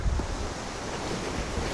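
Steady wind blowing outdoors, likely across open ground near the sea, a continuous broadband rush with mic buffeting, loud and close throughout with no talk.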